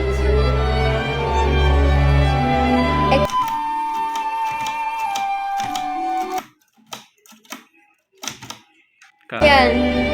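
Typewriter keys clack in short irregular bursts after a stretch of music and voices, with sharp close strikes separated by pauses and speech returning at the end.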